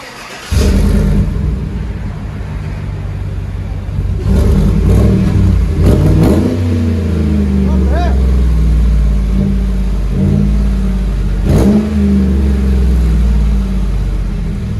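A 2017 GMC Sierra's 5.3L V8 dual exhaust with Flowmaster Flow FX mufflers rumbles nearby, revving up several times with throaty surges over a steady idle.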